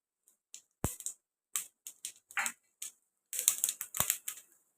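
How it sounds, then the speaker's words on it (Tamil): Mustard seeds, urad dal and chana dal crackling in a small amount of hot oil for a Tamil tempering, giving sharp irregular pops and spits, scattered at first and then in a denser burst near the end. "இப்போ தாளிப்புக்கு கடுகு உளுத்தம் பருப்பு கடலை பருப்பு போட்டுக்கலாம் கடுகு பொரியட்டும்"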